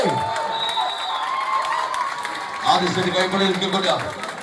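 A crowd claps and cheers for Souhruda Puthuchira Kottiyam at a competitive match against Karthika Piravanthoor, the applause swelling midway beneath a commentator's continuous voice.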